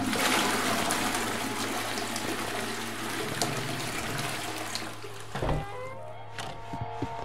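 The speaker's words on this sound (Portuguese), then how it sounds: "Vamos dar descarga nesse aqui também?" In the horror game Silent Hill: Downpour, a toilet flush rushes loudly and then tapers into trickling refill water, ending with a few faint knocks and drips.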